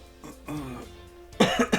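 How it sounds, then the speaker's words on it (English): A few close, throaty coughs burst out near the end, preceded by quieter throat sounds and a brief low hum. "should have got that cough out first"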